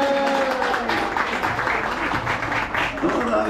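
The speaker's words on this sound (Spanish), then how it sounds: "¡Fuerte el aplauso, que se escuche!" Guests at a 50th wedding anniversary party applaud after the anniversary candle is blown out, a loud, continuous wash of clapping mixed with cheering and chatter from a crowded room.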